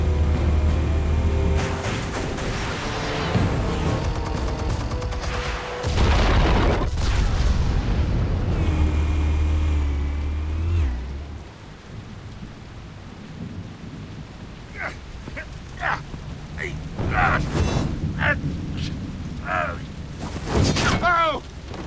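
Explosives detonating in the Batman Telltale Series video game, with heavy rumbling booms and crashing debris over a sustained low roar, then scattered sharper bursts and crackles later on, loud and close, with voices in the mix.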